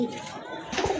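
A pair of light-coloured pigeons coo softly at close range in a brief, low murmur, with one slightly louder swell near the end and no talking.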